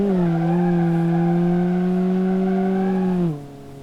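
A rear-wheel-drive car drifts sideways in BeamNG.Drive, its tires giving a loud, steady, tonal squeal that holds for about three seconds and then drops off abruptly.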